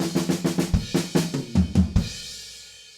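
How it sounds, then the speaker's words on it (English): Drum fill from a song, played on a close, loud kit: a rapid run of tom and snare hits with triplet figures, ending in a crash that rings out and fades. "the very last fill is similar to what we've been doing, but there's a couple of triplets in there"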